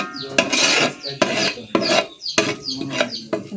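Onions and green chillies frying in a pan for kanji, stirred with a utensil in repeated scraping strokes about every half second, close and loud over a soft sizzle, with no speech.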